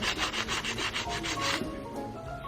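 Rhythmic rubbing strokes of sanding excess weld off a welded metal mould, about eight quick back-and-forth passes, close and steady, then a quieter scraping tail.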